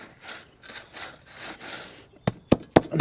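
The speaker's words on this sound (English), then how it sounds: "I like to use a trowel. So we spread it across like that." A trowel spreads and scrapes fill material across the ground while turfing over an old garden pond, giving a run of close, rough strokes followed by several sharp taps and knocks.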